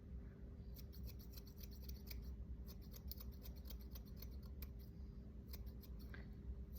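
Scissors trimming tufts of fur between a dog's toe pads, a quick series of soft close snips and rubbing against a steady low background hum.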